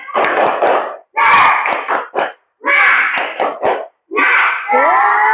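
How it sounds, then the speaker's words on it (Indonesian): Students in a classroom perform a tepuk semangat routine, shouting a chant in loud rhythmic bursts punctuated by sharp group claps, with brief pauses between phrases. "kita kasih tepuk semangat dulu"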